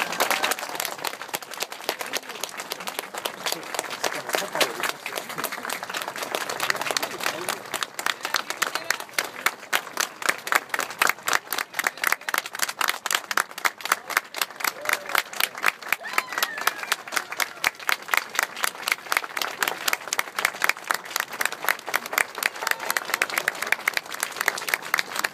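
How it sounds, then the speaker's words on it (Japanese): Steady, dense crowd clapping fills a motorcycle trial world championship awards ceremony, continuous and even in volume throughout, with faint voices beneath. "どうぞ皆様大きな拍手をお願いいたします"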